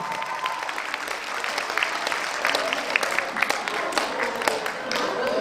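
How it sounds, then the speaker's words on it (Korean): Warm, sustained applause from a crowd at an award ceremony for a national friendliness contest, with many hands clapping steadily and a few sharper claps standing out. "축하의 박수 큰 박수 부탁드리겠습니다"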